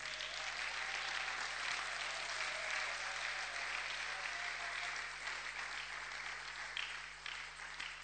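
A church congregation applauds at a Sunday service in a sustained, even round of clapping that fills the space for the whole stretch and fades slightly at the end.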